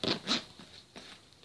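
A zipper pulled open on a tightly packed, overstuffed school backpack: a few quick, close raspy zip bursts over about a second, fading into soft rustling.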